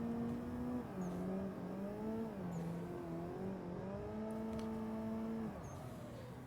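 Car engine in Assetto Corsa held on the throttle while drifting, a steady droning rev that rises and dips slightly with throttle changes, close and alone, easing off near the end.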